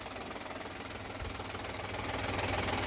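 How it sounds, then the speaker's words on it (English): A 2019 Daihatsu Hijet mini dump truck engine runs steadily as its transmission PTO raises the dump bed, a continuous droning rumble that swells slightly louder toward the end. "If you're in the cabin you can increase the revs of the engine, that makes it go a little bit faster"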